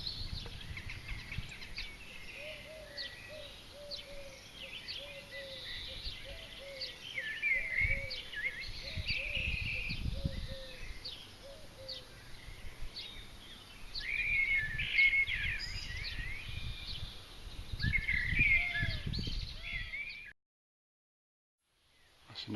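Birds sing and chirp continuously in a small English village, a busy mix of bright, overlapping calls at moderate distance with low rustling and footsteps beneath, before falling briefly silent.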